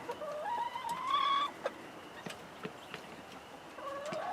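Chickens cluck and call in a coop, newly moved in with the flock, with a drawn-out rising cackle at first, then scattered short clucks and another call at the end, moderately close, no voices.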